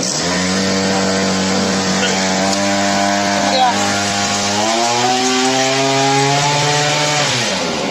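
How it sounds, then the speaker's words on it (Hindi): A brush cutter's small two-stroke engine idles with a buzzing drone, then climbs in pitch as the throttle is slowly raised partway through and holds a higher, louder whine close by. "मशीन स्टार्ट हो गई अभी, धीरे धीरे रेस बढ़ा रहे हैं।"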